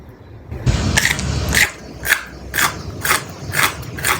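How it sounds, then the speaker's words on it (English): Crystallized bubblegum candy clusters crunch between the teeth in a series of crisp, evenly spaced bites, close and fairly loud, with no talking. "I actually love the crunch on this one."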